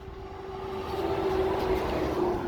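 A train passes near a stopped car hauler truck with a Volvo D13 engine, a steady rumbling roll with a sustained tonal hum that swells gradually.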